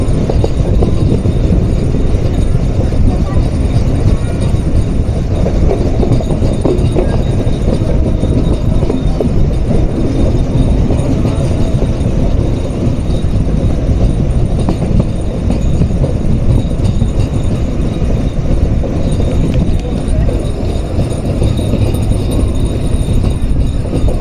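Chitra Express train rolling along a Bangladeshi railway line, a loud continuous rumble of wheels and carriages holding steady throughout with faint clatter and no speech.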